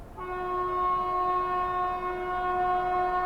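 The Banaras–New Delhi Shivganga Superfast Express sounds a long, steady, loud horn as it approaches, a single sustained chord over rail rumble.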